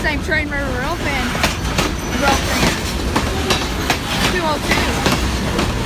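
Kiamichi Railroad locomotive 202 rolling past in Idabel, Oklahoma, loud and close, with continuous rumbling wheels, rhythmic clickety-clack over rail joints and some squealing, while a voice talks over it.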